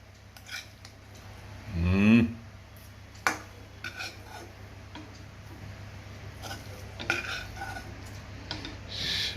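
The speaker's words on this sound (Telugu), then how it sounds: "చికెన్ ఫ్రై రెడీ బౌల్లోకి తీసుకుందాం" Chicken fry is scraped from a pan into a bowl, with a few metallic clinks and scrapes of utensil on cookware, one louder scrape early and lighter taps after, in a quiet kitchen.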